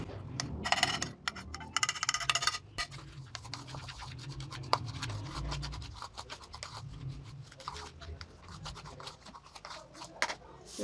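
Turmeric, ground cumin, carom seeds and salt being stirred together in a bowl for a masala brinjal fry give faint, intermittent scratchy scraping and light clinks, quiet and close.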